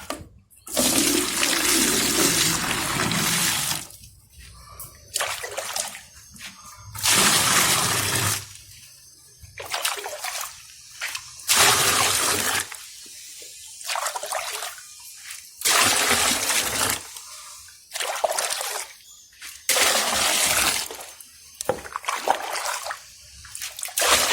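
Water is stirred in a container to dissolve a treatment for rusty-smelling well water, giving repeated surges of splashing and swishing with short quiet gaps, close and loud.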